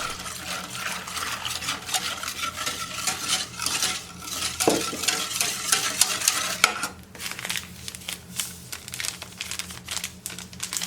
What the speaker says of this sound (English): in a pot I'm gonna put grits, sugar, cover up with milk, mix them up with the milk